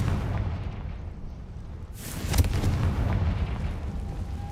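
A Confringo blasting spell explodes in a Harry Potter video game, giving a loud booming blast with a sharp crackling burst over a constant low rumbling background, and no speech.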